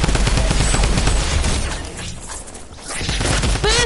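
A drum gun SMG rattles off rapid bursts of automatic fire in a video game, dense and loud at first, thinning briefly mid-clip, then resuming with a sharp metallic whine near the end.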